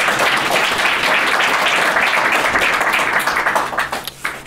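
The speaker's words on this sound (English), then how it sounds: "Give him a warm round of applause." Workshop audience applauding a speaker about to talk on Marxism and radical republicanism, a dense, steady wash of clapping at close range that begins to thin out and break into scattered claps near the end.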